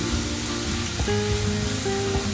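Onions sautéing in a pan for a paneer dry fry, a loud, close, continuous sizzle with a few brief tonal hums from the kitchen mixed in.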